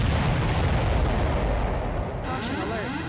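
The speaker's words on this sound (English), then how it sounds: "That's a confirmed direct hit by the missile." Missiles explode in the Ace Combat 7 combat flight game as a dense, heavy roar of blasts and rumbling booms that fills the first two seconds, then eases into a lower rumble while a voice comes over the radio.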